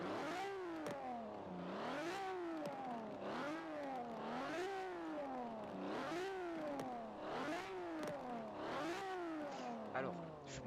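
Engine of a 1953 Ferrari 250 California in the video game Forza Horizon 4, revving up and down in steady repeated cycles, loud and continuous with no talking.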